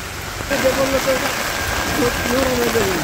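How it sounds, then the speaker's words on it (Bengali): Steady rain falls in a village, a broad even patter lasting throughout, with a person talking over it for most of the time. "তো এই যে বৃষ্টি চলতে আছে"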